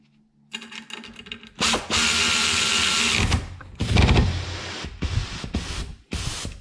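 An Aircat 1/4 inch air ratchet runs in bursts, first in reverse and then forward, with loud hissing whirrs and rattling stops and starts, close up and without talk.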